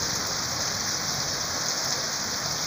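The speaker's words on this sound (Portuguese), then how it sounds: "Veio a chuva." Heavy rain pours steadily in Joinville, Brazil, on a humid early evening in June, a dense, continuous hiss of drops on surfaces that stays close and loud from start to end with no talking.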